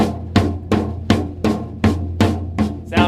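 Drum triplets mixing soft taps with heavier accented strokes, the kind of roll used to end a song, about eight evenly spaced hits in a steady rhythm, close and alone.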